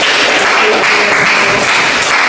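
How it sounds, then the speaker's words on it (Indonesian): A group presentation in a classroom ends with an audience applauding, a dense, steady wash of clapping filling the whole short moment at close range. "Berikan tepuk tangan untuk kelompoknya dia."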